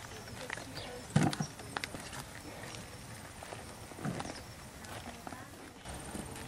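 Hooves of a former racehorse clop on the ground at a horse camp, a few irregular knocks standing out close by, with people talking in the background.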